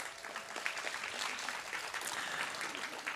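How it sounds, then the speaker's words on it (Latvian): A studio audience at a European Parliament ambassador schools graduation broadcast applauds steadily, a fairly faint, even wash of many hands clapping with no single claps standing out. "Aplausi studijā,"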